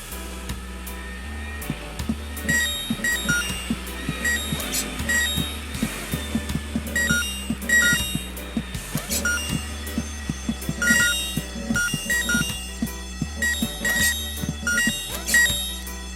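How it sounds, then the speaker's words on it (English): A piercing fire alarm rings in the video game Horace, a busy, steady electronic clamor with repeating bell-like pulses over a throbbing low beat of game music, loud and continuous throughout. "The ear-splitting sound was the fire alarm"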